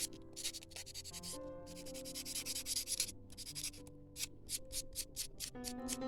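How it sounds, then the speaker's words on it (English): Fingernails are buffed before chrome nail powder goes on, giving quick, rhythmic, faint rubbing and scratching strokes over soft background music. "I'm going to start by buffing these down."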